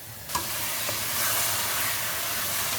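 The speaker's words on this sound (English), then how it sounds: "And now let's add this paste." Tomato paste hits a hot pan of masala for a Punjabi rajma curry, a brief impact at the start and then a steady broadband sizzle that holds loud and close with no talking.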